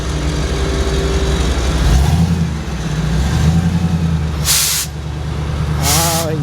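A custom truck with heavy metal-flake paint rolls past at a Houston classic car show, its engine rumbling loudly and steadily from nearby over crowd ambience, with brief hissing bursts near the end.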